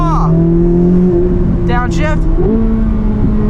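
Sports car engine droning loudly on a racetrack, either a Corvette Z06 or a McLaren 600LT, holding a steady raspy tone that steps up in pitch near the end, close to the microphone in the cabin, with brief talking over it.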